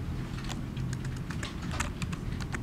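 Rapid key clicks on a computer keyboard while working in the Vim editor, steady soft tapping close by over a low background hum.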